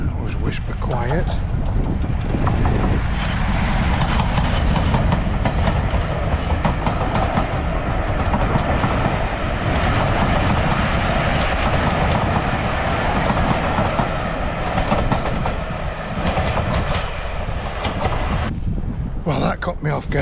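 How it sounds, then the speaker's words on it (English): A train passes nearby with a loud, continuous rumble and rattle of wagons for about twenty seconds, fading slightly near the end, heard outdoors at a bike camping spot. "Oh, there's a train coming."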